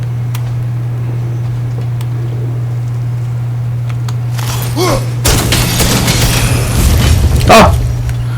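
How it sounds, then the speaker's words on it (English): Enemies exploding in God of War Ragnarok, a loud booming burst midway followed by crackling debris and a second blast, over a steady low hum of game ambience. "These bastards about to explode!"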